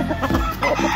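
Fighting cocks clucking and squawking close by, a loud, busy run of throaty calls that fills the whole second with no talk.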